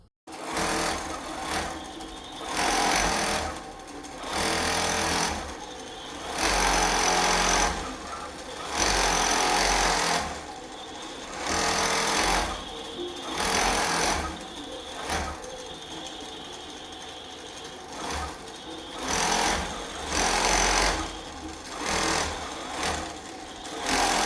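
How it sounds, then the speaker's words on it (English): A sewing machine stitching binding onto a finished quilt runs in repeated bursts of rapid mechanical whirring, stopping briefly between runs, close and loud with no talk. "I am working on my binding for this quilt now."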